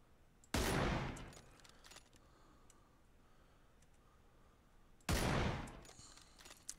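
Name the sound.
sniper rifle gunfire in the video game PUBG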